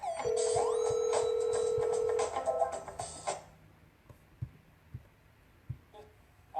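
A loud electronic phone ring tone sounds during an outgoing call to a seller, playing for about three seconds before cutting off, followed by quiet room noise with scattered faint taps and clicks.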